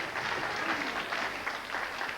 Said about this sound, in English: Nice to hear applause from the crowd there for great moves by both men here